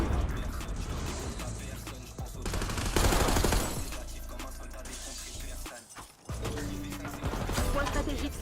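Bursts of automatic gunfire and mechanical clatter in an online shooter match, dense and loud through most of the stretch with a brief lull near the end before firing resumes.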